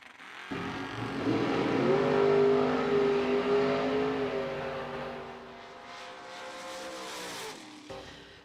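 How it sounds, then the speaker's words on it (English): Drag racing at a strip, with one dragster passing a Camaro: a loud sustained engine roar that swells, then gradually fades as the cars run off into the distance, with no talk over it. "Big starting line advantage for Billy Groton, and he takes the win."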